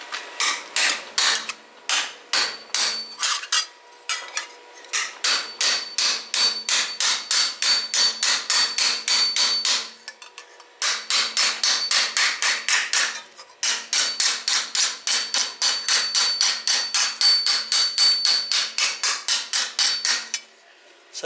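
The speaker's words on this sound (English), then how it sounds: "So that's planishing just as if it was one piece of metal." A hammer planishing a welded steel patch on a rusty Holden HK HT HG front guard held in a vise, with rapid, steady metallic blows in long bursts, briefly pausing between runs, close and loud.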